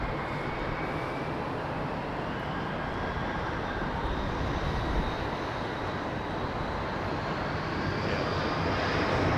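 A jet aircraft taking off from runway 27R at London Heathrow Airport, a loud, sustained engine roar with a rising whine that builds steadily over the whole stretch.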